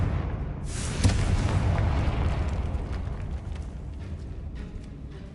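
A Confringo fire spell in Hogwarts Legacy bursts with a single loud boom near the start, then trails off into a long rumbling roar that slowly fades, with no voices over it.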